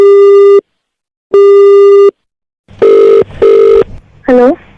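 A phone line gives a busy tone after a call is hung up: two long, loud, evenly spaced beeps, then shorter, rougher tones over faint background noise.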